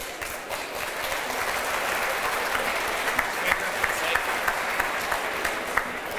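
Audience applause for a speaker at a 2025 AERO event in Oklahoma: a broad, steady wash of many clapping hands filling a large room, loud and sustained throughout with a few sharper claps standing out.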